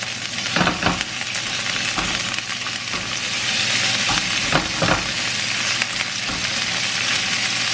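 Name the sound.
lean ground beef frying in a pan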